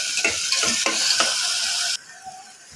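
Onions with salt sautéing in a pan, a loud steady sizzle with several quick rhythmic scraping stirs, the hiss cutting off abruptly partway and leaving a quieter simmer.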